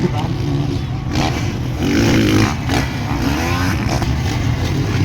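Racing motorcycles roar past in a final with a rider numbered 49 in the field, engines loud and sustained with a rising rev swell midway, heard under an excited commentator's talk.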